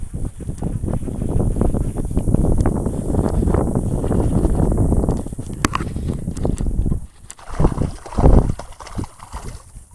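Strong wind buffets a microphone at a boat launch on a cold day, a steady roaring rush that drops away near the end, leaving a few scattered knocks.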